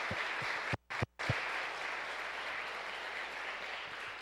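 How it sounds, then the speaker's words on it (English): Audience applause for the support teams at a youth oratorical contest, a steady dense wash of clapping that breaks off twice briefly before carrying on evenly. "So please give all of your team behind you a big round of applause and a big thank you."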